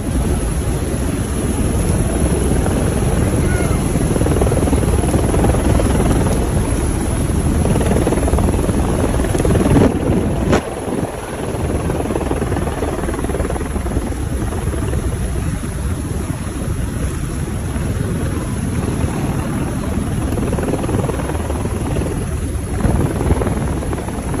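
A helicopter flies over a crowded cash giveaway on La 42, its rotor and engine producing a loud, unbroken drone that fills the whole stretch with little variation.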